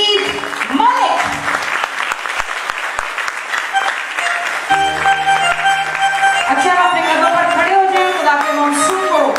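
Loud audience applause welcoming Pastor Naveed Malik onto the stage at an interview event, sustained clapping with voices and some music-like tones mixed in throughout.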